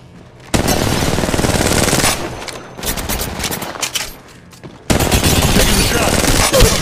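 Automatic gunfire in Apex Legends Mobile sounds as loud, rapid bursts of close machine-gun fire, two long sustained volleys separated by a brief lull with quieter shots in between.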